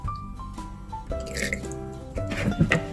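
Water, vanilla flavouring and vegetable oil pour into a bowl for chiffon cake batter, with close, wet dripping and splashing in short bursts.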